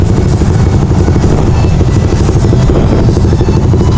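Open-pipe motorcycle exhausts revving loudly during a group ride, a dense, continuous rumbling roar close by that fills the whole clip with no pauses.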